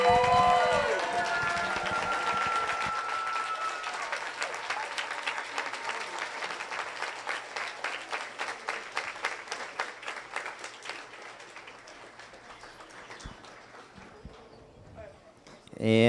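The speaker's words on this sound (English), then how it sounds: "So if we could all stand up and give her a round of applause." Audience applause at a closing event, beginning dense and loud as a crowd claps together, then thinning into scattered, rhythmic clapping that fades toward the end before a brief final swell.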